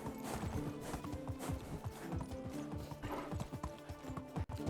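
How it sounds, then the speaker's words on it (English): Horse hooves clip-clop at a steady walking rhythm while riding a horse-drawn cart in Medieval Dynasty, close and continuous under game music, with a brief whinny near the end. "I shouldn't watch the chat whilst trying to drive this horse"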